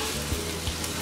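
Chow mein noodles with oyster sauce sizzle steadily in a hot pan as they are stirred, a dense close frying hiss over one brief moment.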